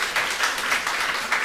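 A church congregation claps during a Sunday worship service. The applause is brief and steady, with gentle pulses in the clapping and no voices.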